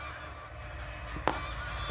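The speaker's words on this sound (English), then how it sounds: "We've got an army of geese coming across." A flock of geese flying over a cabin gives a brief honk, heard faintly and far off through a steady broadband wash of outdoor noise.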